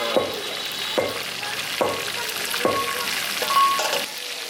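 Food frying in a pan at an outdoor group picnic, a steady sizzle with about five sharp stirring scrapes at regular intervals, fairly close and with no talk.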